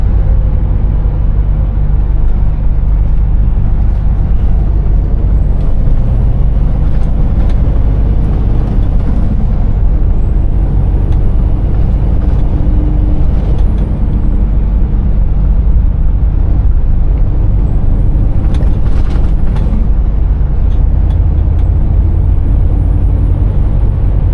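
A Scania V8 truck drives down narrow Shropshire country lanes, heard from inside the cab as a loud, constant deep engine rumble with a few faint high whines rising and falling over the drone.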